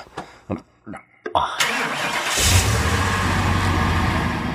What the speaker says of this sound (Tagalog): Pagandar iti kotse,